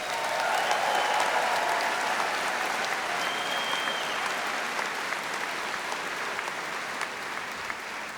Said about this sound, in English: please give everyone here a round of applause for the class of 2026.